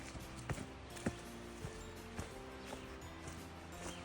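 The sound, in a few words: river roaring in the background on a trail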